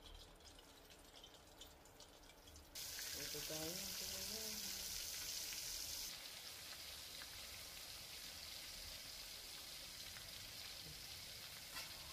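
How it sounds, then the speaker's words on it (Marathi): Stuffed Bombay duck fish fried on a flat pan gives a steady hiss and sizzle that jumps up loudly as the fish goes in, then settles into a continuous crackle. "तव्यात तळायला टाकायचे"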